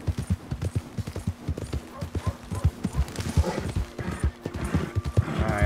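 Horse hooves clip-clop in a quick, steady rhythm across the ground in Red Dead Redemption 2, close and continuous, with a faint whinny-like sound and other game noise toward the end.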